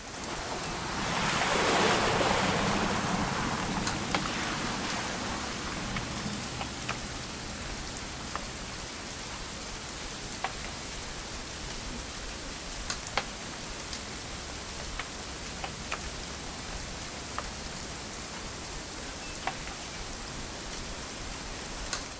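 Steady, even rain hiss from the game What Remains of Edith Finch, with a louder swell near the start and scattered sharp drop ticks throughout. No voices.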